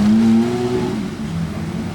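Aston Martin V12 Speedster in Monaco blips through a downshift, a loud close engine note falling in pitch, then easing to a lower idle-like rumble.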